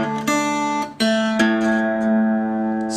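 Acoustic guitar picking a delta blues fingerstyle pattern, a few clearly plucked notes ringing out close and clean, the last one sustaining.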